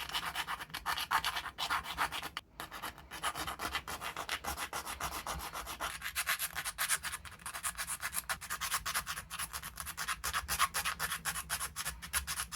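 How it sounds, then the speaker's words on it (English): Steady, rapid filing of animatronic eyelid parts, a dense continuous scratchy rasp heard close up for the whole stretch, with no voices. "Let's go on to the filing."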